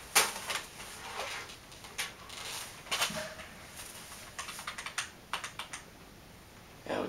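Irregular bursts of clicky key presses on a computer keyboard during BIOS setup of a newly built PC, with short pauses between flurries, close and fairly quiet with no speech.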